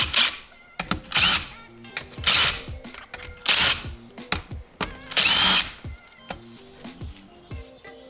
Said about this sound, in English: the cases are held together with all of these 14mm bolts right here, so I'm going to start by taking those off